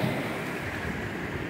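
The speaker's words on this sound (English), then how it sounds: "we're getting an absolutely beautiful waterfall here." Rushing runoff at the headwaters of the San Diego River: a waterfall gives off a steady, loud broadband roar of falling water with no pauses, close by, alone without talk.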